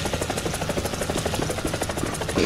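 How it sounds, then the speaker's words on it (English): A steady, rapid rotor thump with a broad mechanical roar, continuous and fairly loud throughout, like a helicopter in flight, from a helicopter in the Roblox game Frigid Dusk. "I'm in a helicopter."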